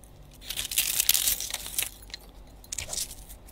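Brittle crunching and crackling of a flower frozen solid shattering like glass, in a few close bursts with a glassy, crinkly edge.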